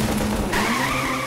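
A race car launches flat out with tires skidding and squealing, a steady engine drone rising in pitch as it pulls away; loud and continuous, with no talking.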